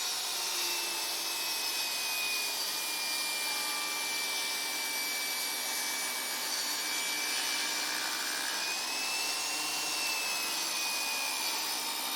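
A steady, unbroken rasp of sawing through a wooden dowel for box trim runs evenly and close for the whole stretch, with a faint high whine above it and no voices.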